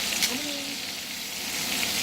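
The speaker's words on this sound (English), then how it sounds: "You hear that sizzle?" Steady, close crackling sizzle of shrimp frying in hot oil, with a brief voice murmuring underneath.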